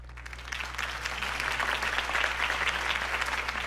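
Sustained crowd applause in the video game Batman: The Telltale Series, a dense steady patter of many hands clapping throughout, fairly loud with a constant low hum underneath.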